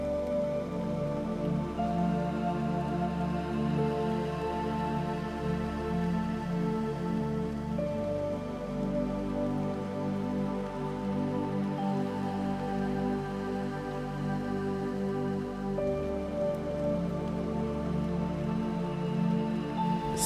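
Steady, even rainfall with a soft sustained tonal drone running beneath it, continuous and unbroken for the whole stretch.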